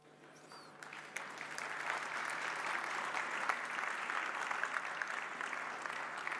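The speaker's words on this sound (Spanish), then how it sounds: "Qué bueno que te aplaudan" An audience at an economics institute event applauds a government minister, clapping that swells in the first seconds and then holds steady as a moderate, even patter of many hands.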